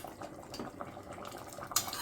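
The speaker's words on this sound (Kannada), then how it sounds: "ಇವಾಗ ಒಗ್ಗರಣೆ ಮಾಡ್ಕೊಂಡಿದ್ದೆ, ಒಗ್ಗರಣೆ ಸೇರಿಸ್ತಾ ಇದ್ದೀನಿ ನಾನು." Tempering of garlic, curry leaves and mustard seeds poured into a vegetable dal curry, with faint clinks of a pan and spoon ending in a brief sharp sizzle near the close.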